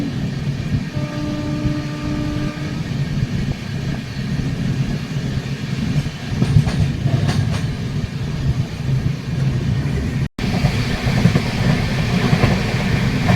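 A moving passenger train on the way to Koraput rattles and rumbles continuously from inside the carriage, a steady loud clatter with brief higher tones early on and a short cut near the end.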